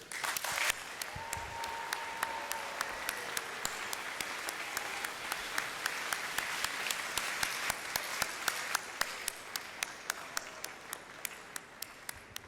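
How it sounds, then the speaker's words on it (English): A university fall convocation audience claps and cheers at a morning ceremony, a broad wash of applause with distinct individual claps sounding through it. It holds steady for the whole stretch at a moderate, somewhat distant level. "join me in giving a heartfelt round of applause and cheers to thank the people who helped you reach this special moment in your life"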